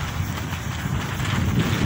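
Strong wind sweeps a campsite in a steady, close, rushing roar that buffets the microphone without a break for the whole short stretch.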